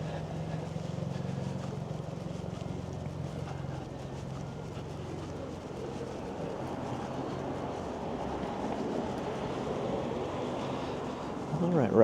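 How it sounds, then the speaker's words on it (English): Steady wind blowing and rumbling across a microphone on a cold night walk through Toronto streets, a continuous broadband roar with shifting gusts and low traffic-like hum, no clear voices. "It's not like there's 0 wind."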